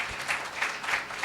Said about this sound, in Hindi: पहले तो ताली बजाओ